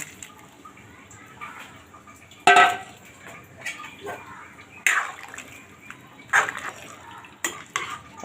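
Fried potato and cauliflower pieces dropped into a simmering curry in a pan, giving a few sharp clattering splashes and utensil knocks spaced apart over a quiet background.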